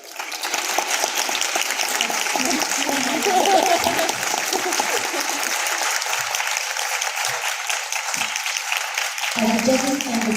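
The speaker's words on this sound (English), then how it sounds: "We'd like to extend our appreciation through gifts and a resounding applause." Hall audience at a speech contest applauds the judges and guest speaker with sustained, dense clapping for several seconds, tapering near the end as a voice comes in.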